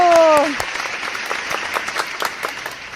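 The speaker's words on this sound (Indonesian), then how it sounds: "tepuk tangan dulu" An audience bursts into applause right after a voice calls for it, a dense crackle of many hands clapping that continues steadily throughout, with a brief spoken phrase at the very start.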